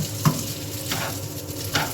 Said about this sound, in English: I know it's still sizzling, but it's pretty good, it'll sizzle.